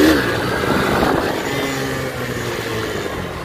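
Motorcycle engine revving hard during wheelie practice, a loud steady mid-pitched drone that holds throughout with slight rises and falls, no voices over it.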